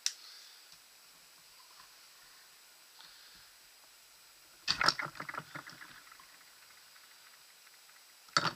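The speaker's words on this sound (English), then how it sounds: "get a barrel swab and push it out from the front of the receiver" A barrel swab scraping through the receiver of a dirty Tiberius T9.1 paintball marker during cleaning, heard as a cluster of close rustling, clicking handling noises midway and a sharp click at the end, with quiet background otherwise.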